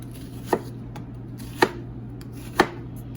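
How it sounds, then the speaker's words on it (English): Three evenly spaced knife chops through an onion on a cutting board with a Cutco knife, each a crisp close thud, over a faint steady hum. "And I'm going to cut up this onion here in just chunks."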